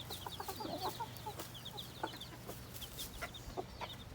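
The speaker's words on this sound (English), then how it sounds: "And there is the other Cornish hen, the little brown hen." A little brown Cornish hen gives soft scattered clucks and chirps, with small peeping sounds around her, faint and close in a quiet barnyard.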